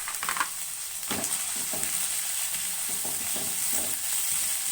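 About a cup of cubed chicken sautés in hot oil, giving a steady close sizzle with occasional stirring scrapes and crackles.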